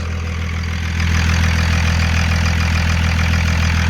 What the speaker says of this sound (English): let's rev it up a few times and see what it does.